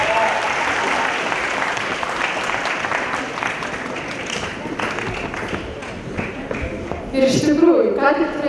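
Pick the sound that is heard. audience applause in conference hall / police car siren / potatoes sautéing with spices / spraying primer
audience applause in conference hall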